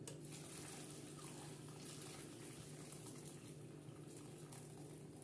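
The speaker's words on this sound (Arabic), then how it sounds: "تنزيدو بقيه ديال الماء" Water pours steadily into a pot of shrimp, vegetable and rice soup, a continuous faint splashing stream with no talk over it.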